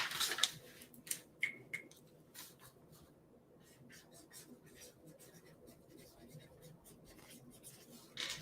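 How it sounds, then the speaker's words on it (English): Handwriting on paper, with a few sharp taps of the pen early on and then faint, continuous scratching strokes in a quiet room. "I'm going to write something down."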